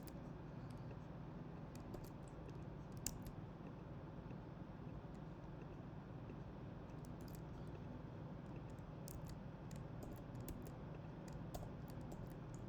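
Faint, distant keyboard typing while writing Swift code: scattered soft keystrokes in short clusters over a steady low background hum, with no talking.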